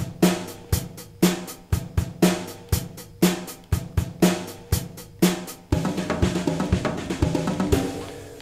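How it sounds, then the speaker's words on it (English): Basic rock drum beat played for four bars, steady kick, snare and cymbal hits in a driving pattern, then a busier drum fill with rapid hits at the end, loud and close with no voices. "let's take a rock beat for 4 bars with a drum fill like this."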